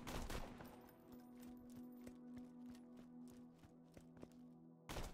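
Rapid gunfire in Borderlands 2, a dense volley of shots rattling steadily for about five seconds at moderate level, ending in a louder burst.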